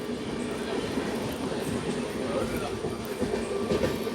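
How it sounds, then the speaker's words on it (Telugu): Tirunelveli–Bilaspur Express train moving past, a continuous rumbling roll with faint rhythmic wheel clatter and occasional metallic squeal, moderately close, steady throughout with a little background crowd murmur. "తిరునల్వేలి నుంచి బిలాస్పూర్కి వెళ్తుంది ఈ ట్రైన్"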